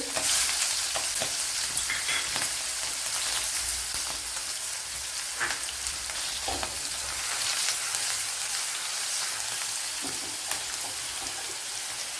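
Mustard seeds and green chillies fry in hot oil, a steady close sizzle with scattered crackles and pops running throughout, no voices.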